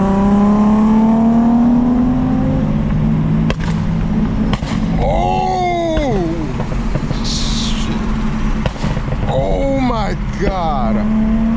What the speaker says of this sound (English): If you've never been around a car that shoots flames like that, you don't know.